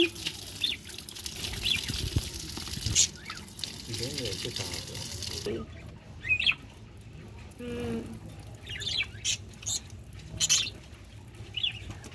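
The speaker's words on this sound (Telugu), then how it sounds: "ఒక ట్యాప్ పెట్టేస్తే చాలు, అవే చేసేస్తాయి నీట్గా" Budgies bathe under a running tap, water pattering and splashing steadily nearby with small bird chirps, while a person talks over much of it.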